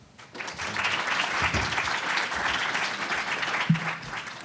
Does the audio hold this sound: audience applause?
yes